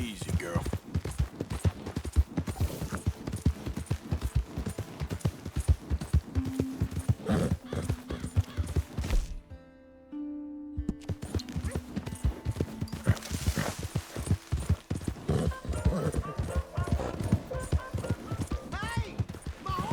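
Steady horse hoofbeats clip-clop throughout in Red Dead Redemption 2, briefly dropping out midway before resuming, with a voice calling out over the trotting.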